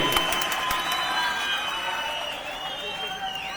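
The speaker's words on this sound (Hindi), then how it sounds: "आइए अब इस्तकबाल करें जोरदार तालियों की गड़गड़ाहट के बीच।" Applause greets a guest at a Muslim community gathering: a moderate, steady patter of clapping with a few sharp claps at the start and faint tonal music or voices running underneath.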